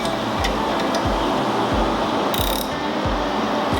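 A ratchet wrench with a 9/16 socket snugs a bolt while mounting an Elco EP-14 electric outboard bracket, steady rapid clicking strokes in a regular rhythm, close and alone.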